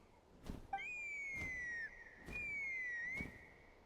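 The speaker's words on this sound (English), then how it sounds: "That sounded like a whistle." A long, two-part whistle in Genshin Impact, gliding steadily and slightly downward, sounds clearly over quiet game ambience while faint, regular thumps recur beneath it.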